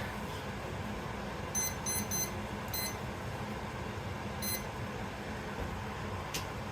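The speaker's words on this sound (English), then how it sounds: "and set a timer for 3 minutes." A kitchen timer being set for three minutes gives several short, faint electronic beeps in clusters, with the beeps spaced irregularly over a steady low room hum.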